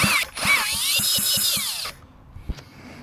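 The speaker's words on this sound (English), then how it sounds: "I'll put the drill driver on" A cordless drill driver whines up and spins at a steady high pitch for over a second, turning over a vintage Stihl 075AV chainsaw powerhead, then winds down, with a few clicks and a thump afterward.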